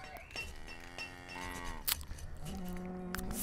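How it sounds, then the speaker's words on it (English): Cattle moo in the farming town-building game Banished, with several drawn-out, tonal moos in succession, moderately close and heard alone without talk. "So we have cows and we have sheep."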